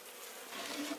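Honey bees buzzing inside a hive near the brood comb, a steady close insect drone that swells slightly louder toward the end, with no voices.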